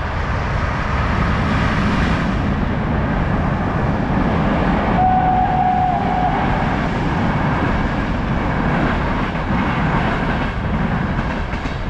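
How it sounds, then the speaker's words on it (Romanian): A freight train rushes past at speed during an evening walk through town, a loud, continuous roar and rumble that holds at full strength for the whole stretch with no talk. "auzi ce viteză are tren"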